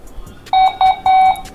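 A Blurams A10C CCTV camera gives three clear, loud electronic beeps during setup, the last one held longer, with faint background noise between them.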